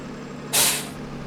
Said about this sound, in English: So right now I'm just gonna park the Peterbilt here